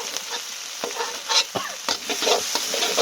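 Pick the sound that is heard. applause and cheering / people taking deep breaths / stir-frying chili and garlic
stir-frying chili and garlic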